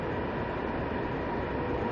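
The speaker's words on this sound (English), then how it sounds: "So this train coming from Shenzhen Pingshan, which is in Pingshan district." A high-speed train arriving from Shenzhen Pingshan gives a continuous, loud broadband rumble and rush of rolling rail noise, steady throughout with no voices.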